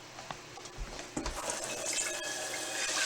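A tap runs as a dirty cooking pan is washed in a kitchen sink, with steady splashing water and occasional knocks of the pan, close and fairly quiet.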